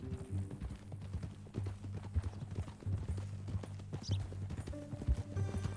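Horse hooves clip-clop steadily in Red Dead Redemption 2, a continuous close rhythmic trotting that runs the whole stretch with a low rumbling bed beneath.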